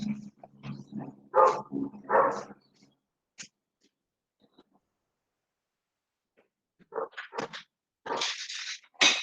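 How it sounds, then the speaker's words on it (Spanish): Dog barking in short bursts at the start, a quiet gap, then more barks and yips toward the end, moderately close with no talk. "Y se oye menos el perro, creo."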